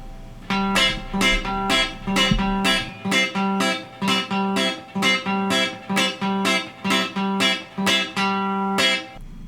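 Country guitar train-beat lick at full tempo: a steady, fast run of about twenty bright, evenly spaced picked strums with sustained harmonic ringing, loud and close, with no voice over it.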